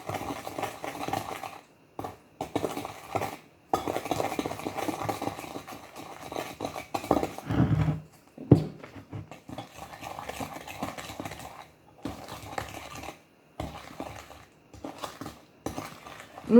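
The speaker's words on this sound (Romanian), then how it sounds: "Amestecăm bine, da? Substanța asta cremoasă de zahăr vanilat și unt." A spoon steadily stirs a thick, creamy mix of vanilla sugar and butter in a bowl, scraping and clinking in a continuous close rhythm with brief pauses.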